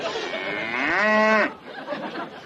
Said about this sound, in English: A Bossy cow.